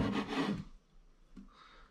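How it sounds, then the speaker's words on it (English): A kitchen knife cuts through a large squid, slicing off the end before it is sliced into rings about 10 millimetres thick, giving a close, dense rasping stroke that stops abruptly, followed by a faint tap. "that's where I'll just cut that end off"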